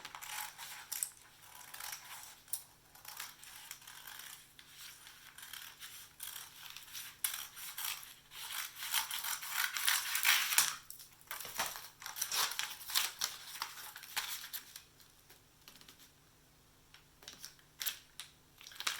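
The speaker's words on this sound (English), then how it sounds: "it's too big, so I'm just going to cut it" Scissors snipping through a Prima Redesign window transfer sheet, giving a series of quiet, close crisp cuts and paper rustles in an irregular rhythm, with no talking.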